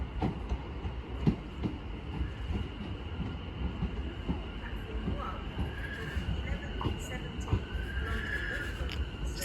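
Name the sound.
London Overground Class 710 train arriving at Bethnal Green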